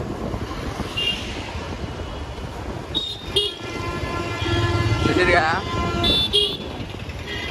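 Horns toot repeatedly over engine rumble as a bus bound for Siddipet pulls out of a busy bus stand, several short honks sounding close by, while someone talks throughout.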